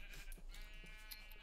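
A sheep bleats in the Minecraft video game, a couple of faint, brief game-sound bleats over a steady low background hum.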